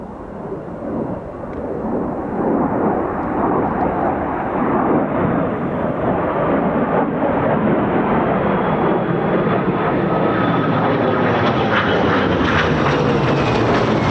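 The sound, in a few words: F-35B stealth fighter jet coming in to land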